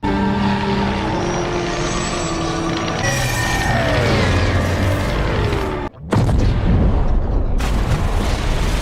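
An aircraft engine is destroyed by enemy gunfire: a loud explosive boom crashes in with heavy rumbling and mechanical clatter, a brief dropout, then a dense burst of blast noise and debris.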